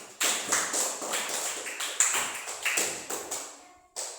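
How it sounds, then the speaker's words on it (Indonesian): A classroom applauds group number 1, several bursts of clapping near and loud in uneven waves, pausing briefly near the end before a final burst. "Tepuk tangan buat nomor 1"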